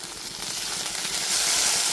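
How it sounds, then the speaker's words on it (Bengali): Okra pieces fry in a pan, giving a steady, loud, close sizzle and hiss that swells slightly toward the end, with no voices. "সমস্ত ঢ্যাঁড়সের টুকরোগুলো একটু ঢাকা চাপা দিয়ে আমি ভেজে নেব।"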